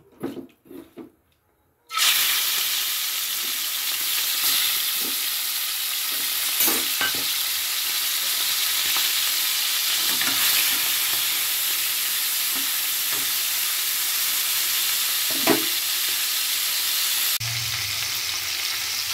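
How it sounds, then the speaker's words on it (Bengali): Prawns coated in salt and turmeric fry in hot oil for Bengali-style dal with prawns. A loud, continuous sizzle runs nearly throughout, with faint stirring scrapes, after a few soft knocks at the start. "চিংড়ি মাছগুলো লাল করে ভাজা হয়ে গেছে"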